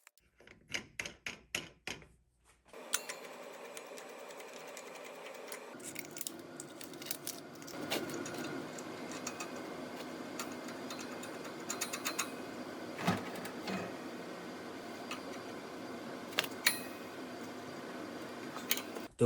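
A fiber laser welder regulator package being unboxed: a quick series of sharp cardboard rips and clicks at the start, then ongoing rustling, crinkling and handling clatter of packaging, fairly close.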